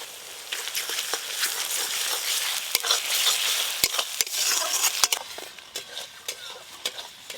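Ginger-garlic paste frying with onions already browned red in a pan, giving a steady close sizzle broken by sharp spoon clicks and scrapes throughout, with no voices.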